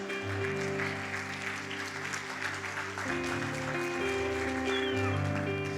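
A church congregation claps together in worship over sustained organ or keyboard chords, steady massed applause blending with the held musical tones.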